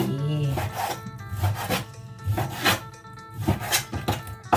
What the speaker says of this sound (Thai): หั่นหมูหั่นหมูไปคุยไป